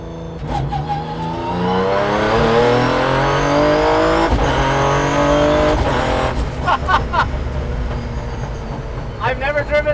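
A 600hp, 2400 lb 1971 Datsun 240Z roars and revs hard through rising gear sweeps while being driven, loud and close throughout, with excited voices talking over it.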